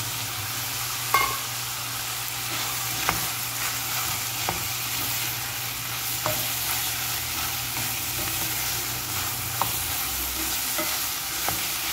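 Mushrooms sautéing with vegetables in a pan give a steady, close sizzle and frying hiss throughout, with occasional sharp taps and clicks of the utensil as they are stirred.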